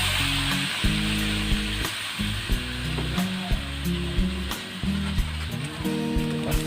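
Fish sauce hissing and sizzling in a hot wok, a steady bright crackle broken by regular clanks of a utensil scraping the pan.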